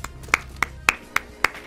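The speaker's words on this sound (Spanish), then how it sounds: "Sí, señor. Se aplaude." Hands clap five times in a slow, even rhythm, each sharp clap distinct and close, with quiet background between them.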